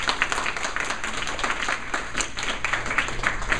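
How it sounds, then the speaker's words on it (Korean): A church congregation claps together at the close of a teen-led service, a steady patter of many hands ringing through the room for several seconds with no voices over it. "모든 분들께 박수 한번 부탁드립니다."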